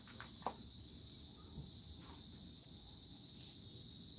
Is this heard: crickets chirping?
yes